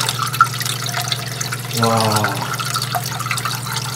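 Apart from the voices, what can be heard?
water flowing from aquarium stream after turning it on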